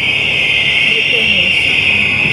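A continuous shrill electronic tone, like an alarm or buzzer, holds steadily at one pitch with faint background noise beneath it, heard near a street demonstration by the beach.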